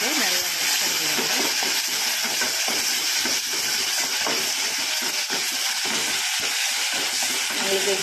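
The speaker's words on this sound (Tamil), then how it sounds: "தக்காளி நல்லா ஆட் பண்ணிவிட்டு நல்லா மிக்ஸ் பண்ணிவிடுங்க" Tomatoes stirred into hot oil with frying fenugreek, cumin and fennel seeds for a kara kulambu curry: a steady, close sizzling hiss broken by soft clattering stirs throughout.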